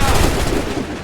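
A firing squad lets off a volley of gunshots, a dense, loud, continuous burst of overlapping blasts that fills a short moment.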